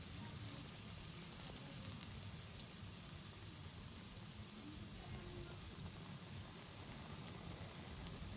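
Green chillies coated in batter for mirchi bajji deep-fry in hot oil, giving a steady, even sizzle that runs unbroken from start to finish, with one brief pop partway through.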